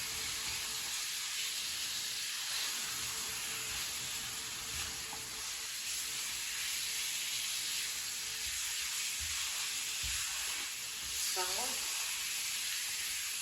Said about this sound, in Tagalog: Prito-prito ko lang muna mga kabeshi at maya-maya ko po sa bawan.